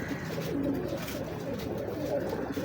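Pigeons coo in a steady low murmur across the whole stretch, several birds close by with overlapping soft calls and no voices.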